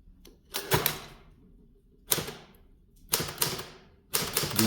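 Keys on a 1963 Olivetti Diaspron 82 manual typewriter strike in four quick bursts of clacks, each cluster a sharp, close mechanical rattle separated by brief pauses.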